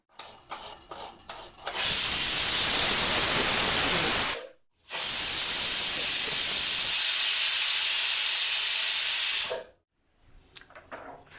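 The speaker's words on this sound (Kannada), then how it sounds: "ಎರಡು ಸೀಟಿ ಹಾಕಿಸ್ಕೊತೀನಿ" A pressure cooker whistles hard while jaggery rice cooks, two long loud bursts of hissing steam separated by a brief silence, with quiet kitchen sounds before and after.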